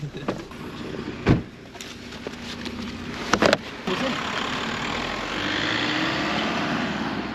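Road noise fills the cabin of a car carrying hitchhikers through the French countryside, a steady rumble and rush with a few sharp knocks and thumps near the start.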